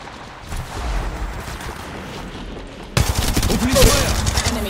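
Gunfire in the battle-royale shooter Apex Legends, a dense burst of rapid shots that gets louder and busier halfway through, over a steady game soundscape.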